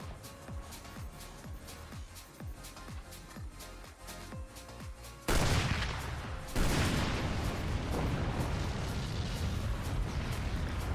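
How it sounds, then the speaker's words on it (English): In the strategy game Forts, a series of sharp weapon impacts gives way to a sudden loud, roaring blast as a core explodes, its rumble sustained to the end. "It makes the core explosion noise."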